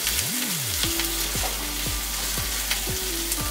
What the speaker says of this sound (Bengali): মশলাগুলো তেলের সাথে ভালো করে ভেজে নিচ্ছি।